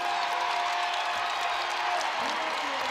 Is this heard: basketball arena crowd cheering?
yes